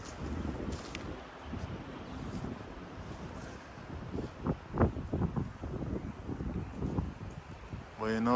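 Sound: strong wind blowing outdoors

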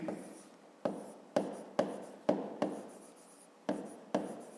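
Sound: writing

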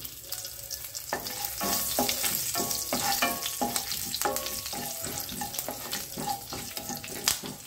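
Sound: mustard seeds and curry leaves crackling in hot oil tempering

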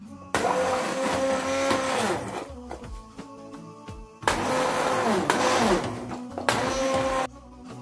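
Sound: blender puréeing leek soup

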